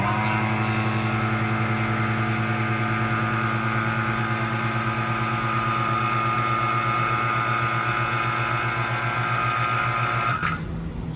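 Vacuum pump for CNC work holding running steadily with a loud, even mechanical drone and a strong rhythmic hum, cutting off abruptly near the end.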